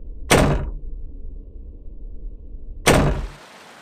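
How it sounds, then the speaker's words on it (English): In the video game Kage Oni, a door is unlocked with a cave key, giving two sharp, loud thudding clacks about two and a half seconds apart with a quiet low rumble between them. "I unlocked the door with"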